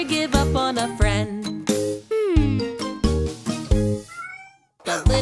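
A cat meows several times in quick succession, loud and close, with a light jingling alongside and a short pause near the end.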